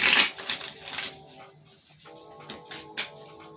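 Tarot cards shuffled by hand, giving soft repeated riffling and shuffling under a faint steady background tone, close and without speech.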